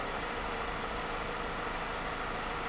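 A car engine with a common-rail diesel pump idles steadily, a constant close drone with even low rumble and no revving throughout.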